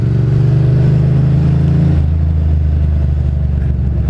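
A Ducati Monster motorcycle engine hums steadily at close range in Brooklyn city traffic, its tone dropping partway through as the rider eases off, continuing as a low, even drone.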